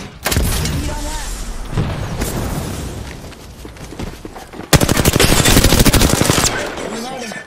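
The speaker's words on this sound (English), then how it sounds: "The enemies are shooting at me." Loud, close automatic gunfire rattles in Apex Legends, several bursts of rapid shots with a long sustained volley near the end, mixed with game voice callouts.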